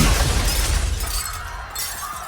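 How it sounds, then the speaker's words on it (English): A window pane shatters with a loud burst of breaking glass, followed by a tinkling scatter of falling shards that fades over about two seconds. "the window behind his head shattered"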